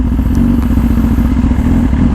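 A 2018 BMW S1000RR sportbike fitted with an Austin Racing exhaust rumbles steadily while being ridden, a loud, continuous deep engine drone with a few faint clattering knocks and no speech over it.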